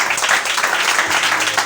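A church congregation claps steadily together during a sermon, a dense, even patter of many hands close by for a couple of seconds.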